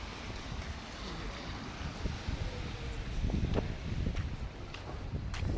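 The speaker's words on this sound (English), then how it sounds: "there is some wind right here on this open intersection" Wind blusters across an open street intersection near a harbor, a steady roar that swells at times with no clear voices.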